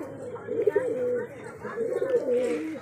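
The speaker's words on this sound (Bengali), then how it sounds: "এটা একটা ম্যাটাস পায়রা, চোখ কালো ম্যাটাস।" A black-eyed Matta pigeon coos in repeated low, throaty phrases, two main bursts close by, with people talking at the same time.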